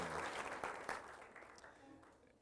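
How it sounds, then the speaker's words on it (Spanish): Applause from a church congregation, a brief dense patter of clapping that tapers away over a couple of seconds, fairly faint, with voices murmuring underneath. "Dele un aplauso al Rey de la Gloria, Jesucristo, nuestro Señor y glorioso Salvador"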